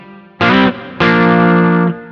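Bacchus G-STUDIO FM CUSTOM electric guitar played through its humbucker pickup without coil split, giving a full, distorted tone with effects: a short struck chord followed by a longer sustained one, loud and up close.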